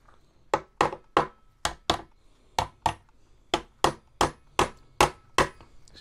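Hammer tapping a plug into place on an HPI 1/5 scale gas Baja 5B RC car build, a dozen sharp close knocks in an uneven rhythm, loud against a quiet background with no talking.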